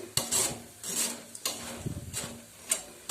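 Coconut pieces fry in hot oil and are stirred, giving soft scraping and rasping strokes in a steady rhythm with faint sizzle, close by with no voices, while cooking a fried poha masala mixture.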